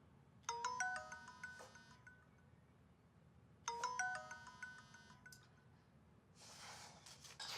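A mobile phone ringtone for an incoming call plays two bright melodic bursts a few seconds apart, fairly close and clear over a quiet room, followed by a soft rustling noise.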